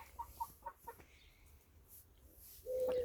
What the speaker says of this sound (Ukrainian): 16 курей і один півень